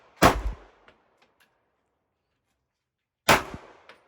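Two sharp, loud handgun shots about three seconds apart at a shooting range, each with a short echoing tail and silence between. No one speaks.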